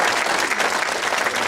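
An audience claps at a talent show, a dense and steady burst of applause from a crowd that is heard briefly and fairly close.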